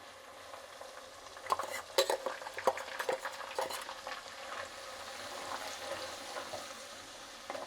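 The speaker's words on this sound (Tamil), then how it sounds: "அந்த அரைச்சி வச்சுருக்க வெங்காய விழுதை போட்டு நல்லா ஒரு வதக்கணும்" Ground onion paste sautéing in a pan with cumin seeds, a soft steady sizzle with scraping spoon strokes and a few clinks of utensil on metal early on, fairly quiet and close.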